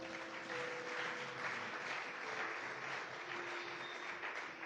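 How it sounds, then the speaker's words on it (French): A church congregation applauds steadily throughout, a dense wash of clapping at moderate distance with no voices standing out. "Est-ce qu'on ne peut pas acclamer le Seigneur?"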